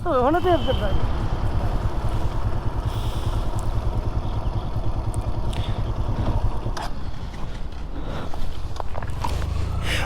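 A Yamaha FZ motorcycle engine runs steadily on a hilly trail ride, a continuous loud low drone with wind and rattling, while riders talk over it.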